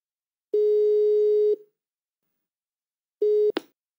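Telephone ringback tone on a call before it is answered: two long, clean beeps about two seconds apart, the second cut short by a click as the line picks up.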